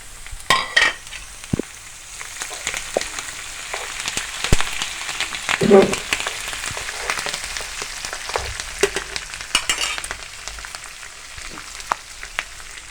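Food frying in a pan until golden brown gives a close, steady crackling sizzle, dotted with sharp pops and occasional stirring clatter, throughout with no voices.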